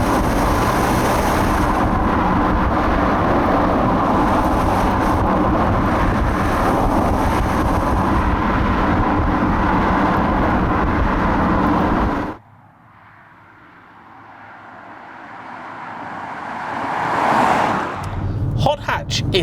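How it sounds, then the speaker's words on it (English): A BMW X3 M Sport 20d xDrive with a 2-litre diesel, driven hard: a loud, steady engine roar mixed with wind buffeting runs for about twelve seconds, then cuts to a quieter, rising drone. "let's see what this big 2-litre diesel barge is like to hoon."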